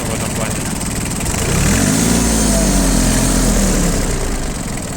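Yanmar AF-18 four-wheel-drive tractor engine idles steadily nearby with a smooth, even mid-pitched rumble that swells slightly after the first second and holds constant.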